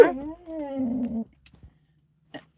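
Dog inside a semi-truck cab, parked in snowy Vermont, excited by dogs outside, lets out one close, drawn-out whining yowl, followed by quiet cab silence and a few faint clicks.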